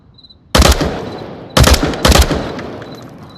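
Gunfire in the VR game Onward: three sharp, loud bursts of rapid shots, each ending in a ringing decay, spaced apart over a few seconds with no voices.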